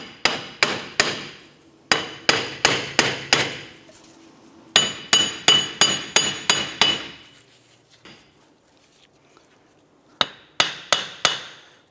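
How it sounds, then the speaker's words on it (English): Hammer tapping on the wheel hub of a 2006-2013 Chevrolet Impala, sharp metallic strikes in quick bursts of five or six, with short quiet gaps between groups. "Let's give our hub a few more taps here."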